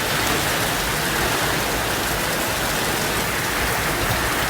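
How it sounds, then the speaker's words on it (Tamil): Heavy rain driven by cyclonic wind pours down steadily, a dense, loud, unbroken hiss of drops on surfaces with a low windy rumble beneath, no voices. "சூறாவளி காற்றுடன் பலத்த மழை பெய்தது"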